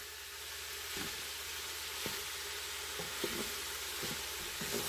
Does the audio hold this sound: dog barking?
no